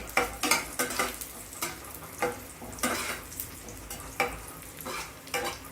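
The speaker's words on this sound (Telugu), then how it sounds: "ఇప్పుడు కిస్మిస్ కూడా ఫ్రై చేసుకోవాలి." Raisins frying in a pan for carrot rava laddu, with repeated scraping stirs of a spoon against the pan over a light sizzle, close and fairly quiet, no talking.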